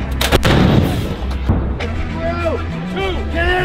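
Heavy booms of artillery cannon fire ring out one after another on a military base, with shouted commands and voices in between.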